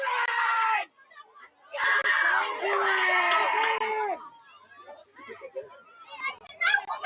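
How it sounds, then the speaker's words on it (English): Crowd cheering wildly at a rugby league match, excited high-pitched screams and shouts rising in loud bursts with short lulls between them. "The crowd going absolutely wild here."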